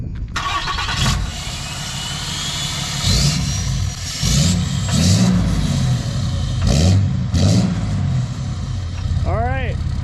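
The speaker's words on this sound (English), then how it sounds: "fire it up and give us some revs with the muffler" A 6.7 Cummins diesel truck with a 5-inch exhaust, muffler and resonator, starting and then revving in several deep, loud surges that swell and fall over the idle, close by, with people talking in the background.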